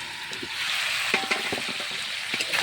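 Chicken simmers in a pan over a low flame as its liquid cooks down into oil and spices, a steady close sizzle and bubbling broken by a few soft stirring clicks.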